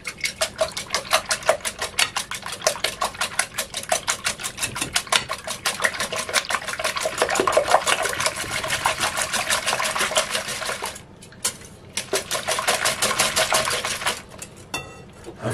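Six eggs being beaten by hand for a flourless, sugarless chocolate cake, a fast steady rattling whisk against the bowl that runs nearly the whole time, loud and close, with two short pauses near the end.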